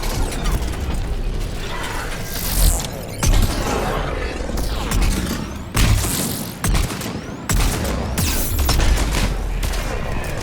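Rapid sniper rifle fire and mechanical weapon clatter in a Mass Effect 3 combat scene, a dense run of loud sharp shots and metallic ratcheting bursts spread over several seconds, with no speech.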